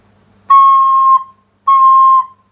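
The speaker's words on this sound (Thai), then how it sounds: "เสียงโดสูงไปแบบนี้ครับ" Two sustained high recorder notes, each held about half a second with a clean pure tone, separated by a short pause.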